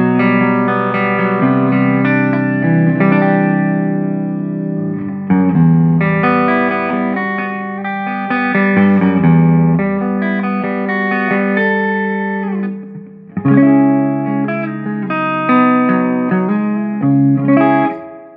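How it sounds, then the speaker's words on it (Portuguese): Clean electric guitar through a Joyo Bantamp Firebrand amp with added reverb plays ringing chords and single-note lines. It is loud and continuous, with a couple of brief breaks and a lingering reverb tail. "o fato de ter o send and return facilita a gente colocar esse reverb que dá uma incrementada"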